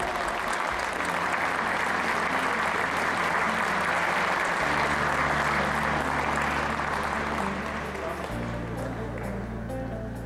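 Sustained crowd applause fills a hall at the opening ceremony of an ice arena in Tomaszów Mazowiecki, loud and steady throughout with a low musical hum underneath.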